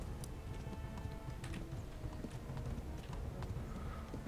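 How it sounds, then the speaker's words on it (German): A horse trots while being ridden in the medieval game Kingdom Come: Deliverance, its hooves clopping in a quick, fairly even rhythm at moderate volume over steady ambient background sound. "Ich reite dort jetzt einfach mal hin."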